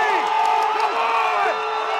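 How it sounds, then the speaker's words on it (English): A crowd at a strongman competition cheers and whoops loudly in a short burst, excited shouting voices overlapping in a large space. "Wow, crowd going crazy here."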